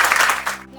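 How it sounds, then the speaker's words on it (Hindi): An audience claps for their guru at a Dnyaneshwari meditation gathering. It is a short, dense burst of applause that fades out quickly. "तो सबसे पहले हमारे गुरु के लिए तालियां"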